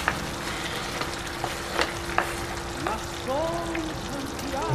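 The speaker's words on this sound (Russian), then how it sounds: "Перемешиваем и под крышку тушим до готовности капусты и свеклы." Cabbage and beet for borscht sizzle and stew in a pan, with soft scraping stirs and small clinks over a steady frying hiss, close and moderately loud.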